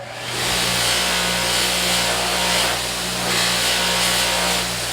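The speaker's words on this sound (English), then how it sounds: "Maybe we'll just sand this a little bit and make it look better" Light wood sanded with a powered sander, a steady loud whirring grind running continuously with slight swells in intensity and no voices.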